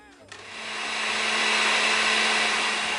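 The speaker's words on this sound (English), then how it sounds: "And then I'm just going to turn my blender on." Blender whirring up to full speed on soaked chilies and salt, a loud steady motor roar with a grinding hiss that swells and holds near the mic.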